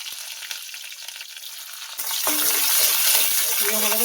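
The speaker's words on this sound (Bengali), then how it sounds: "ভালো করে পেঁয়াজটা ভাজা করে নেব" Chopped onion fries in oil reused from frying fish, with five-spice seeds: a soft sizzle swells into a louder, fuller crackle as stirring begins, with faint scraping tones close by.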